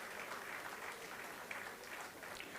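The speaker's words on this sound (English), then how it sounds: "I would like to request the audience to please clap for the students as they receive their degrees." An audience at a degree certificate distribution ceremony claps steadily and evenly for students receiving their degrees, a sustained, fairly faint wash of applause with no voices heard over it.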